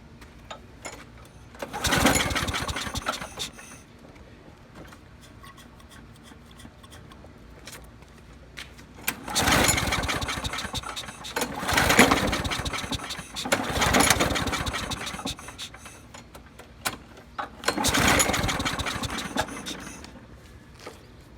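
A Craftsman lawn mower engine with a suspected broken flywheel key is pulled repeatedly, sputtering and catching in four rough bursts of a few seconds each, with quiet pauses between attempts.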